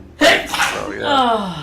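A single sharp sneeze bursts out near the mic during a casual Mega Man X gaming session, followed by a brief voiced exhale as people chat around it.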